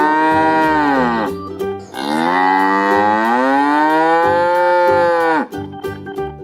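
A white cow lets out two long, loud, close moos, each a drawn-out tonal bellow, with brief breathy grunts between them.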